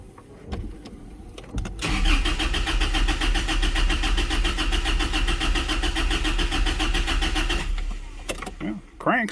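A car engine cranks steadily for about six seconds with a loud, even rhythmic churning but never catches and starts, with brief handling noises and a voice before and after.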